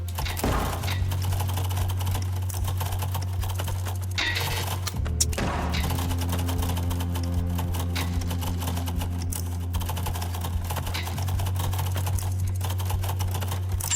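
Rapid clicking of keys on a computer keyboard during a typing game goes on continuously and near for the whole stretch, over a steady low hum, with a brief louder clatter midway and no voices.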